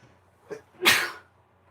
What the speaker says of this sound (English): Oh, Gesundheit.